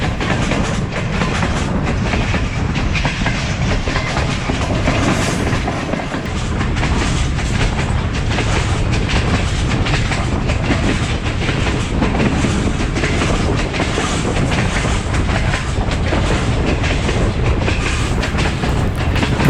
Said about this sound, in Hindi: ट्रैक साउंड सुनने लायक है और जैसे ही ट्रेन की स्पीड भी चेंज होती है तो ट्रैक साउंड्स के रिदम भी चेंज हो जाता है।